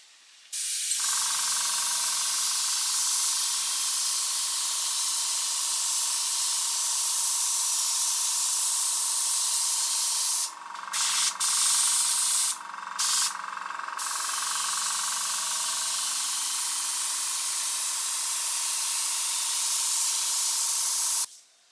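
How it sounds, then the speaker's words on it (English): An airbrush sprays dark brown paint onto venetian plaster in a close, steady hiss lasting about twenty seconds, broken by a few brief interruptions partway through before it stops. "I'm putting the little veins in with the airbrush"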